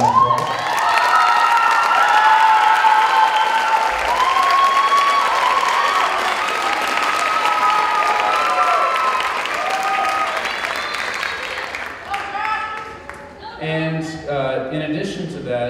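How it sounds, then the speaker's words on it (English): High school fall band concert audience applauding and cheering for students, a loud sustained burst of clapping with whoops and shouts that thins out near the end as voices come through. "And give them a round of applause."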